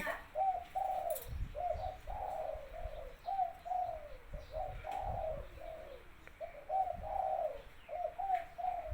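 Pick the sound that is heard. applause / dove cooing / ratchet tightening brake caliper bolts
dove cooing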